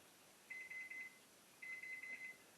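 A kitchen timer beeps during a home brewing session, two bursts of three quick steady electronic beeps each, faint and alone in a quiet room.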